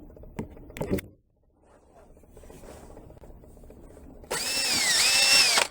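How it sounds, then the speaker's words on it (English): A couple of brief knocks and handling noises, a quiet pause with faint shuffling, then a power drill with a bit just under half an inch whines up loudly and keeps running as it bites into wood. "I think I'll just go ahead and drill that"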